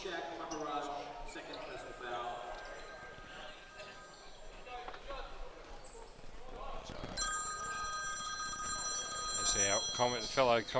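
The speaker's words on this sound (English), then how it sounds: "Our fellow commentator gets a phone call." A telephone rings during a basketball game broadcast, its repeated electronic tones heard over commentators talking and arena noise.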